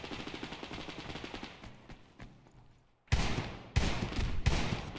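Gunfire in the Survarium shooter, rapid automatic bursts trailing off into a lull, then loud close volleys erupting again in sharp, dense strings.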